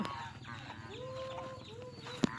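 Chickens on a farm beside green rice fields, soft clucks and a drawn-out call heard faintly and at a distance over a low steady background, with one sharp tap near the end.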